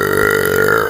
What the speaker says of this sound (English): All I do is burp.